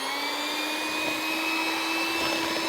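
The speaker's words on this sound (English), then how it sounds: "Now I'm about to blend all of my dry ingredients together on low speed for about 30 seconds to a minute using my hand mixer." A hand mixer runs on low speed blending dry cake ingredients for a pound cake, giving a steady, loud motorized whine with a constant pitch and no pauses.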